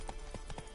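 Horse in The Witcher 3 trotting, a few soft hoof clops in quick rhythm at moderate loudness, brief and close.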